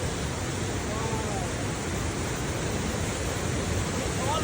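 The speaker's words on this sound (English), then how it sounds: "the Buttermilk Waterfall at Rondex, New York" Meltwater pours over the Buttermilk Waterfall near Long Lake, New York, in January, a loud, steady broadband rush of falling water heard up close without a break.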